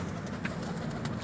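Teddy pigeons coo softly and faintly in a short, low, murmuring burst, quiet and close against a steady background hum.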